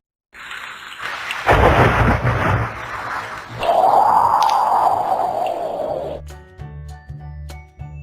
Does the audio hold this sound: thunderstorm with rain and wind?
yes